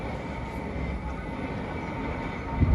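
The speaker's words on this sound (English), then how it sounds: "Probably just hear it in the background, the showman's engine." A steady, low mechanical rumble of a steam showman's engine running in the background, continuous and unvarying, with a brief louder thump at the end.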